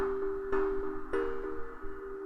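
Software synth in a DAW plays a short minor, minor, major chord progression, with sustained tones and soft note changes punctuated by two brighter attacks, fairly quiet and unaccompanied.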